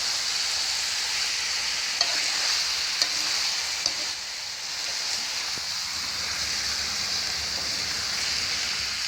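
Onion paste stirred and fried in oil for a village-style fish curry gives a steady, loud sizzle throughout, with a few sharp spoon clicks against the pan.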